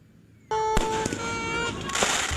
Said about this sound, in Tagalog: Kinukunan lang ng video ang nagpuputokang fireworks na yan sa Barangay de la Paz, Antipolo City